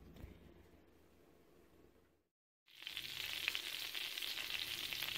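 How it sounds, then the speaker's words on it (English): Butter sizzling in a hot cast iron pan, starting as a soft low hiss that cuts out briefly, then returning as a loud, steady, close crackling sizzle. "getting that butter good and hot"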